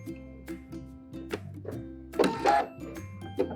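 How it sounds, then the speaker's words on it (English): A sewing machine edge-stitches bias binding with an A foot, running in short rhythmic bursts of whirring stitches with brief stops between, close and fairly quiet. "let's go over to the sewing machine and sew that down around the edge"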